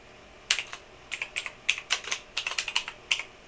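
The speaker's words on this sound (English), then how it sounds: "And type in whatever." Quick bursts of keystrokes on a computer keyboard, clicking in irregular clusters of taps close up with no one talking.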